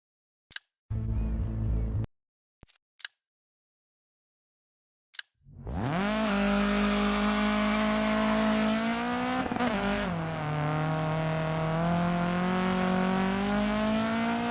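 A rally car engine in DiRT 4 on a muddy stage, heard after a few short clicks and a quiet pause. It bursts in loud and close, its pitch climbing steadily, then dips briefly with a gear change before revving upward again.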